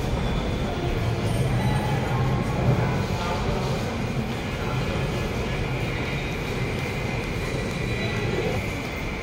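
Steady rumble and hiss of a New Delhi metro station, with trains running and a continuous broad roar filling the space throughout.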